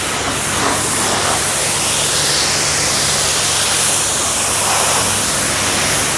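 Heavy duty high pressure car washer sprays water in a steady, loud, hissing rush that stays unbroken throughout, with a faint low motor hum beneath.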